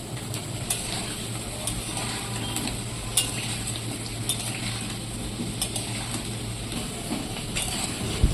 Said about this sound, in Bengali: আলুটা ভালো করে লাল লাল করে ভেজে নেব।